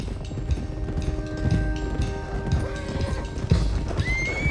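Horses clip-clop along at a trot in Red Dead Redemption 2, hooves thudding steadily and close, while a horse whinnies near the end.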